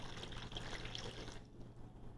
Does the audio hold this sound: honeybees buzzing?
no